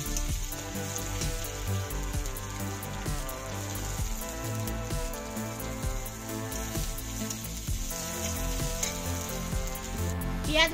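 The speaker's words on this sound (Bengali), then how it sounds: "এবার পেঁয়াজটা দিয়ে দেব।" Onion goes into hot oil already holding fried chili, bay leaf and cumin, and a steady, dense sizzle with fine popping crackles runs evenly from start to finish, close and without talk.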